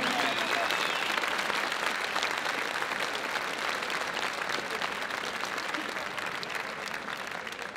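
A crowd at a women's fight night applauds both fighters in loud, dense, sustained clapping that fades slightly toward the end, with talk faintly underneath.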